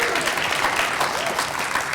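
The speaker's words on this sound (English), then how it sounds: "That's your cue to applaud wildly there in the audience." A conference audience at the FutureM event in a convention center applauds with dense, steady clapping that fills the whole short stretch at an even, fairly loud level.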